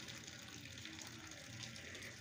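Starchy water pours off cooked rice in a home kitchen during festival cooking, a steady, soft, continuous gushing stream that sounds fairly close.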